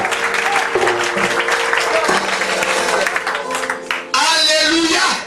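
Applause rises from a church congregation, a steady dense clapping that swells near the end, with a preacher's voice and music carrying over it.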